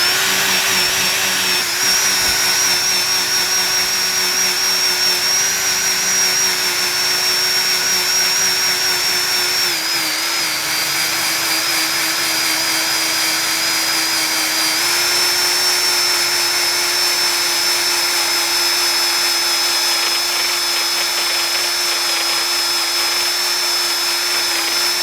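A drill spinning an eraser wheel against a surface to peel off glue, a continuous high whine with steady grinding that holds for the whole stretch, slight pitch dips as pressure changes.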